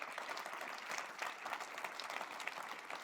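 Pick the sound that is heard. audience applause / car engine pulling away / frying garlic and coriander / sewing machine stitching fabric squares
audience applause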